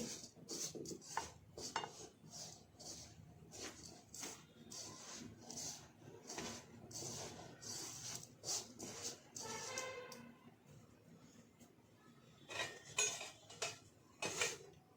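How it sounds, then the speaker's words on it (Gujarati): Spice mixture for stuffed Rajasthani masala chillies being stirred in a bowl, with faint repeated clinks and scrapes of a spoon against the dish in an irregular rhythm. "હવે આ બધી સામગ્રીને આપણે મિક્સ કરી દેવાની આ રીતે।"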